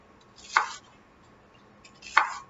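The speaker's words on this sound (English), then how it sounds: "I'm just going to go ahead and slice it" Two sharp knife cuts through vegetables for roasting on a cutting board, each a brief crisp slice with a thud as the blade meets the board, spaced about one and a half seconds apart in a quiet room.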